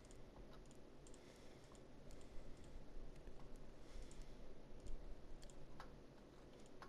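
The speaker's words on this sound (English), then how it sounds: "I hope my clicking sounds aren't too bad." Mouse clicks during a cave-exploring game, a steady patter of quiet, close taps and clicks with slight variation in rhythm over a low background hum, with no talking.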